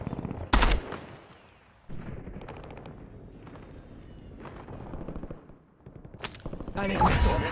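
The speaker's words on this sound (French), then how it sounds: "Feu à volonté." Gunfire in the Warzone video game: a sharp, loud shot early on, then quieter rumbling and rattling, and a heavier burst of rapid fire at the end, with game voices mixed in.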